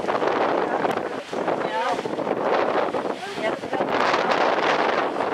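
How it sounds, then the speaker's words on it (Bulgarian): Surf breaking against the European shore at Gibraltar's Europe Point, a steady wash of waves under heavy wind buffeting on the microphone, with people talking over it. "Ето вълните бият европейския бряг."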